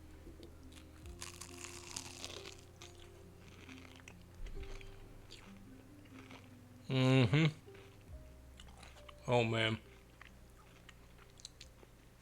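Two loud crunchy bites into a beef croquette, each a short dense burst, with quieter chewing in between and a man's brief murmured reactions.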